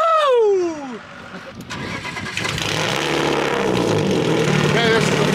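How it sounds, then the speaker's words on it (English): Engine of a remote-controlled full-size BMW car starting on a ranch, loud and near, settling into a rough steady idle, with a rising whoop or whistle at the start. "We're gonna fire it up, get it off the trailer."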